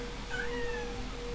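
A house cat gives a single short, drawn-out meow, faint against a steady background hum.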